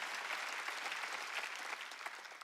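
Church congregation applauding during a Korean Sunday worship service, a steady, dense wash of many hands clapping without pause.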